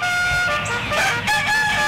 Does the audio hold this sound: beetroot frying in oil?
no